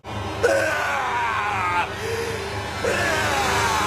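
A man in a Marvel film scene lets out strained, drawn-out screams in two or three sustained cries over a loud, constant rumbling background.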